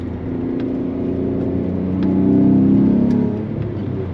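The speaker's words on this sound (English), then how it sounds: "Don't know how the exhaust note's coming through in the old speakers there" An Alfa Romeo 147 GTA's naturally aspirated engine hums with a low, steady exhaust drone, swelling louder midway as the revs rise, then easing back down.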